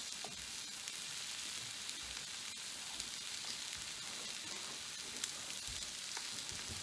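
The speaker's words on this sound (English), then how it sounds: "Oh, you can hear those fish boiling" Egg- and flour-coated fish fillets frying in a pan, a steady crackling sizzle with bubbling pops running continuously and evenly throughout, close and moderately loud, with no talking.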